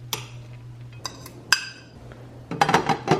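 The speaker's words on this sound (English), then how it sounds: "let me just put this in the microwave" Dish clinks and knocks as it is handled and set into a microwave at home, a few sharp clatters near the start, then a denser run of clinking at the end.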